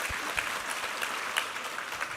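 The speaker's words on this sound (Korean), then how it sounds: "우리 하나님께 감사와 영광의 박수 올려드리겠습니다" A church congregation claps during a Sunday morning worship service, a brief, even burst of applause with scattered distinct hand claps.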